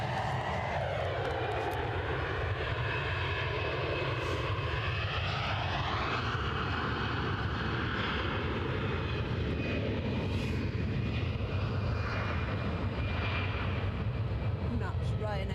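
A Ryanair jet at Edinburgh Airport roars in a broad, sustained engine drone with a slowly shifting pitch, heard from a distance as people talk quietly nearby.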